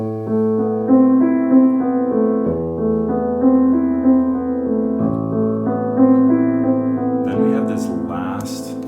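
Piano chords with deep bass notes sounding low on the keyboard, down to the third A, sustained and ringing, played steadily with no voices.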